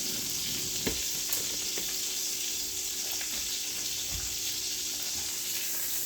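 Tuscan butter salmon sauce bubbles and sizzles steadily in a hot pan, a soft continuous frying hiss with occasional faint stirring clicks and no talking.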